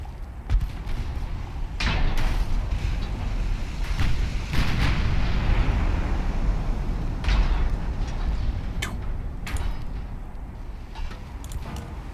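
Naval secondary guns fire from the warship Invincible in the Ultimate Admiral Dreadnoughts battle game, loud booming shots that repeat irregularly over a continuous heavy rumble of battle noise.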